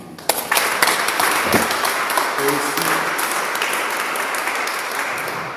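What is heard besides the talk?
congregation applause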